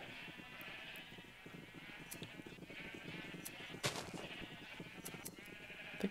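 Sheep bleating in Minecraft on a semi-automatic sheep farm, several overlapping bleats over a steady hum, with a couple of sharper bursts partway through and no talking.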